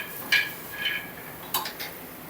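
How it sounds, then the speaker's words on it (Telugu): Chopped onion stirred into a peanut chutney mix, a few light scraping clinks of a utensil against a bowl, spaced apart over soft background noise. "ఇప్పుడు ఒకసారి ఇలా కలుపుకోవాలి"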